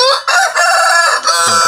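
Black-red Pelung rooster crowing loud and close in one long drawn-out call with a wavering, sustained tone, alone without talk.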